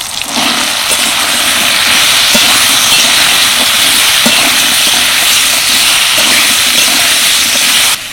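Chopped papaya and chana dal frying in a pan with tomato and spices, a loud, continuous sizzling hiss that holds steady before cutting off at the very end.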